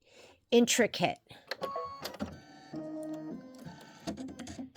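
An embroidery machine stitches an intricate Kimberbell Enchanted Winter block, producing whirring, beeping mechanical tones and rhythmic needle clatter, with a person talking over it close by.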